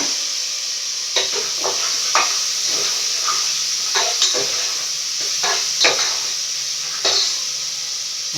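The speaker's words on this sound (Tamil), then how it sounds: "வெங்காயம் போடலாம், கருவேப்பிலை வெங்காயம் போடலாம்." Onions and curry leaves sizzle in hot oil in a pan, giving a steady loud hiss with scattered clinks and scrapes from stirring.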